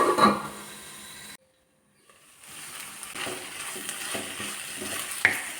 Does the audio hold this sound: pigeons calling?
no